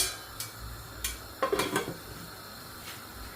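A lid being set on a metal pot of Sri Lankan Jaffna-style Aadi koozh, heard as a few light clinks and a short cluster of metallic clatter, fairly faint in a quiet kitchen.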